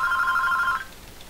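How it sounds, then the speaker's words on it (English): A telephone rings once with a bright trilling electronic ring that lasts under a second and then stops, leaving quiet room tone. "My phone's ringing."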